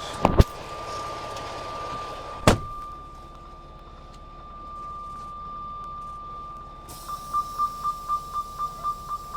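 A steady high electronic tone hums throughout, then a series of evenly spaced truck reversing warning beeps near the end, with a couple of sharp knocks earlier, while hooking a truck to a trailer.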